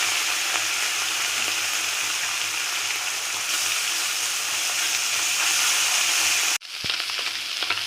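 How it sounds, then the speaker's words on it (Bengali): Steady, loud sizzling of small mourola fish frying in hot oil, a continuous crackling hiss that cuts out briefly near the end before resuming. "তেল গরম হয়ে গেছে, এবার আমি মাছগুলো দিয়ে দেব।"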